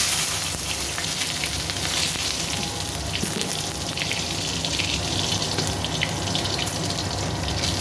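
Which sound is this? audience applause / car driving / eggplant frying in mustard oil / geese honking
eggplant frying in mustard oil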